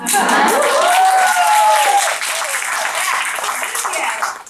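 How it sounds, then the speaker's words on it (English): A crowd applauds during a talk on new-age career pathways, with clapping running beneath a woman's loud, excited voice, then continuing more thinly once she stops. "the older ladies in the crowd are really applauding"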